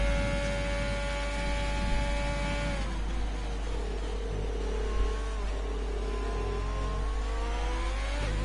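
Racing video game of a French Grand Prix: a race car engine screams down the back straight at a steady high pitch, then shifts and climbs again, loud and continuous with a second car's whine layered in.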